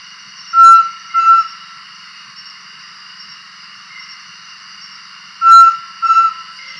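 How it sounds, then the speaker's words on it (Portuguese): Two pairs of clear, drawn-out whistled notes from an owl, each pair separated by a long pause over faint background hiss. "é um som produzido com dois assobios longos e que ela, então, emite e, como corujas, hábitos noturnos"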